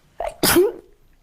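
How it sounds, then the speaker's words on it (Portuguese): A single sharp human sneeze provoked by the pungent dust of a plant pounded in a mortar, with a quick intake then a loud burst, close and alone. "Espirrei."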